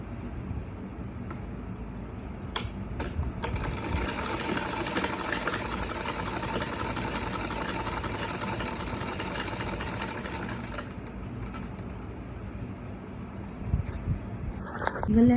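A sewing machine stitching half-folded net fabric, a rapid continuous mechanical whirr running steadily for most of the clip after a few short starts, then stopping near the end.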